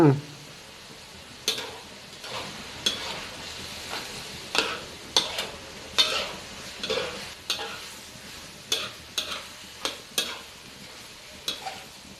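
Food being stir-fried in a pan after a splash of dark soy sauce, with repeated sharp scraping clacks of the utensil against the pan over a steady close sizzle.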